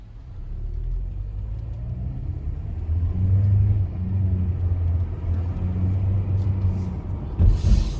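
A car with an ABS warning light and a lack of power is driven on a test run, its engine rumbling low and rising as it accelerates, with a brief louder burst near the end.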